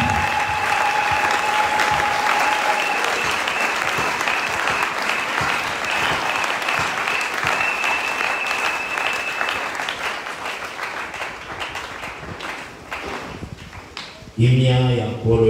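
Church congregation applauding the name of Jesus Christ at the end of a worship service: sustained, dense clapping from a large crowd that gradually thins, followed by a brief burst of voices at the end.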